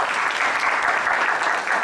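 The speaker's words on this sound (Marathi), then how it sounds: "मला असं वाटतं की गुरु म्हणून रसिकसाठी एकदा जोरात टाळ्या व्हायला पाहिजे" An audience at a music concert gives a loud, steady burst of applause for a guru, a dense wash of many hands clapping together without pause.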